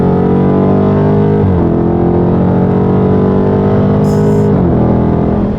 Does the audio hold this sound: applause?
no